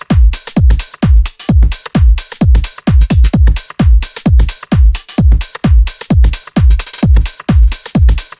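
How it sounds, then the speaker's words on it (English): Tech house drum loop with auto-panning and sidechain ducking to the kick, punchy thudding kicks about twice per second with pumping swells between them, loud and alone. "So all of the drums sound like this."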